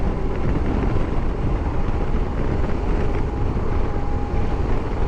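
Loud, unbroken wind roar buffets a motorcycle rider who has no earplugs in, a dense and steady rush that fills the whole stretch with no pauses and no voices.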